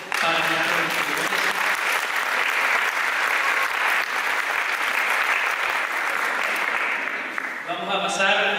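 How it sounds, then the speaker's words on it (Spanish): An audience at a book launch for a collection of mining-town myths and legends claps steadily for students. The applause is dense and sustained for several seconds, then fades as a voice begins speaking. "Un aplauso entonces para nuestros estudiantes."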